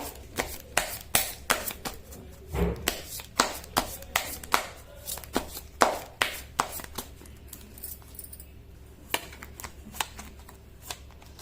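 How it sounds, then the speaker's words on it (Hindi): Tarot cards being shuffled by hand in a series of crisp, rapid riffling bursts and soft slaps, close and fairly quiet, repeating with short pauses and no talking. "मैं कर लेती हूँ कार्ड की शफलिंग।"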